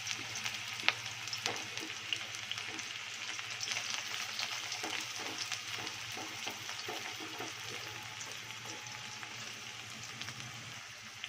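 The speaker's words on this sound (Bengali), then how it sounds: "এর মধ্যে ছেড়ে দিচ্ছি আগে থেকে কুচিয়ে রাখা পেঁয়াজটা।" Chopped onions fry in hot ghee and oil for a prawn curry, giving a steady, close sizzle with scattered crackles and light stirring taps throughout, no voices.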